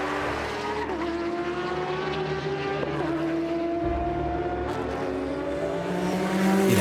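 A Ford GT race car laps Le Mans at night during the 2019 24-hour race, its engine a steady, close droning whine with sustained harmonic tones that swell louder near the end.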